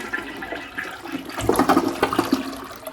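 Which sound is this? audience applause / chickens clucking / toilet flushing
toilet flushing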